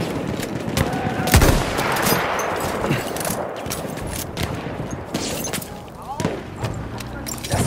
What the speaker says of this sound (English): Feindliches MG gesichtet!